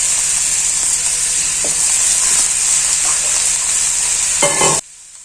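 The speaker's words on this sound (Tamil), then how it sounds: "இப்போ வெங்காயம் நல்லா வணங்கின பிறகு காயெல்லாம் நம்ம அதுக்குள்ளே போட்டு எண்ணெயில் ஒரு 2 நிமிஷம் நல்லா வணக்கிக்கலாங்க" Chopped potato, brinjal and softened onion sizzle and hiss in hot oil in a pan, sautéing for a sambar, a loud steady frying crackle with faint stirring taps that cuts off abruptly near the end.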